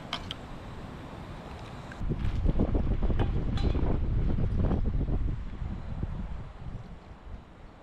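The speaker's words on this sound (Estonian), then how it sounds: "Tuul ikka vaikselt tõuseb." Wind blows by the sea on an Estonian coastal island hike, gusty rushing and buffeting against the microphone that swells louder midway, steady and close, with no voices.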